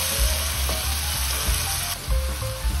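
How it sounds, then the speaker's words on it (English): Onions softening and turning golden in olive oil over high heat in a Tuscan village kitchen, a continuous close sizzle with soft stirring knocks and low thumps throughout. "The onions are getting soft and golden, what we want."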